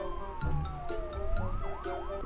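Police siren in a Roblox horror game, a wailing tone sliding down and then cycling in quick rising-falling whoops, moderately loud over a low rumble with a few soft thumps.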